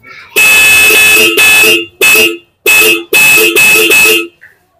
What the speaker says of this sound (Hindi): तो देखा आपने हॉर्न का कितना जबरदस्त आवाज है दोस्तों